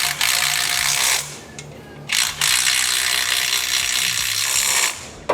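A ratchet clicks steadily as it tightens the motor mount bolts of a Harley-Davidson Sportster engine on a Led Sled frame, in close, loud bursts of rapid pawl ticking with brief pauses between strokes.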